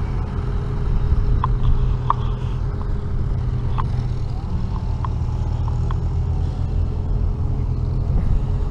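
Minneapolis Moline G704 and M504 tractors, both LP-fuelled with front wheel assist, rumble past at a threshing show in Dalton, Minnesota, with a steady low engine drone and a few faint clicks and chirps above it.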